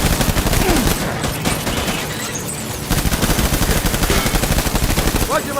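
Sustained gunfire in the Death Stranding video game, loud rapid bursts of automatic shots layered into a continuous barrage with a brief lull midway, no voices over it.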